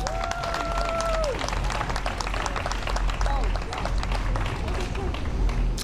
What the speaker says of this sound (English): A round of applause for San Justin's Kitchens.